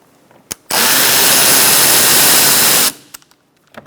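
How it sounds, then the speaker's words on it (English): A screw on a 2012-2018 Ford Focus bumper area being backed out with a T30 driver, a loud steady powered whir lasting about two seconds, with a few clicks before and after. "Using a T30, remove this screw."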